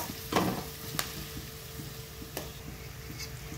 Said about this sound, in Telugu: ఆయిల్ వేడైన తర్వాత ఆనియన్స్ వేశారు, బాగా ఫ్రై అవ్వాలన్నమాట.